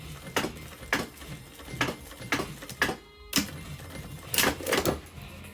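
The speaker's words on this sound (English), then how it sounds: "this is how you sew J-stitch on denim jeans" A sewing machine with new needles stitches a curved J-stitch through denim jeans. Its loud, close mechanical clatter comes in short stop-start bursts, and there is a brief quiet pause midway.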